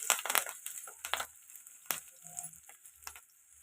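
Curry leaves fry in oil for a chicken fry, giving sharp crackling pops and spitting in close, irregular bursts with quieter gaps between them.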